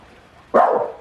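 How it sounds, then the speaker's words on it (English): A single sharp bark from a dog aboard a boat, close and fairly loud, rising abruptly out of a quiet background and trailing off within half a second. "Dogs coming into the boat."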